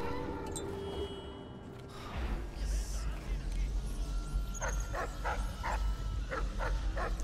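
A dog in the game Dishonored yelps and whines in a short run of sharp cries over a dense, rumbling game soundscape.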